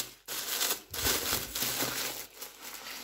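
Green tissue paper crinkles and rustles close up as a package is unwrapped, in steady crumpling bursts with short pauses and no talk.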